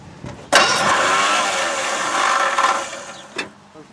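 A 1963 Cushman Mailster engine catches and fires up abruptly after a brief crank, running loudly with a steady, slightly uneven putter for a few seconds before cutting out with a final thump.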